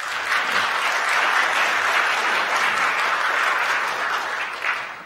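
Church congregation applauding in welcome during a Sunday service, a steady, full wash of clapping from a large crowd that holds for several seconds and tapers slightly at the end.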